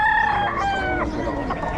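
Several roosters crow loudly and close together, with hens clucking beneath them, in a busy, continuous mix of fowl calls.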